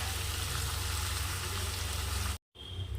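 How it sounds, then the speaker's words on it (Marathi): Potatoes sauté in oil over a low flame while making sabudana khichdi, a steady soft sizzle and crackle that cuts out abruptly near the end, then returns more faintly. "स्लो आचेवर याला आलूला छान परतून घ्यायचा"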